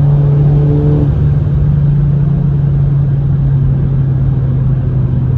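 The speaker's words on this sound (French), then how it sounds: "Vous l'entendez, hein, c'est un beau V12." An Aston Martin V12 revs loudly and close by with a strong low drone and a brief higher harmonic whine at the start, then settles into a constant heavy rumble.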